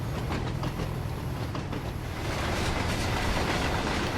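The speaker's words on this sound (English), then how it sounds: "you can hear the rattling and shaking of the wagon" Freight wagons hauled by a Class 37 locomotive in Train Sim World rattle and shake continuously, a dense steady rumble with faint clickety-clack over the rails, up close and without talk.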